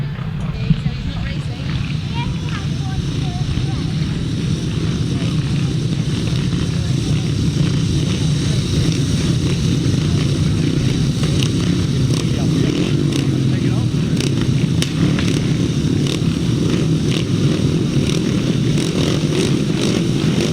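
500cc solo grasstrack motorcycles rev their engines at a race meeting, a loud, sustained, fluctuating roar throughout, mixed with crowd noise and an announcer speaking.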